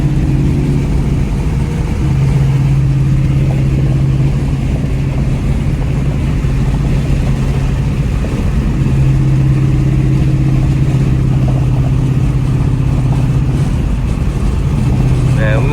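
Mustang GT engine droning steadily while weaving through traffic, a loud constant mid-pitched rumble with a sustained tonal hum, no clear rev spikes.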